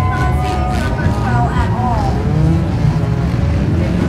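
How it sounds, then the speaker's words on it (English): Several race cars roar off together at the start of an enduro race, a loud, dense wall of engine noise with rising revs from multiple cars, while a voice talks over the din. "Let's go enduro racing"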